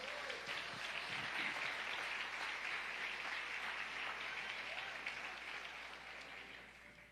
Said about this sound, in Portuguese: Você pode aplaudir e glorificar o Senhor?